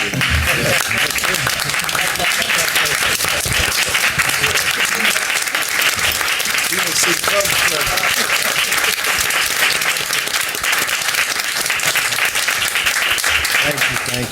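Loud, sustained clapping from a crowd at a school district board meeting honoring departing board members, a thick steady wash of applause lasting throughout with voices faintly mixed in.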